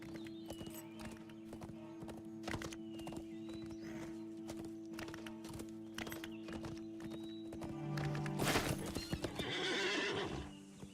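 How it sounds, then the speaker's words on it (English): Steady, rapid hoofbeats of a galloping horse drum along in an even rhythm in the game LOTRO, followed by a loud neigh near the end. "That's about as fast as his horse is going to go."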